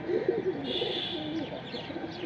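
Several caged pigeons offered for sale coo in low, overlapping murmurs, with a steady warble running close by throughout and no one speaking.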